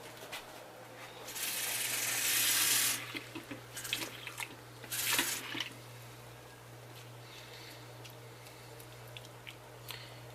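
Running water pours from a tap into a container as barley is washed, a loud hissing splash that surges, drops, surges again, then fades to soft trickles and small drips, close and without talk.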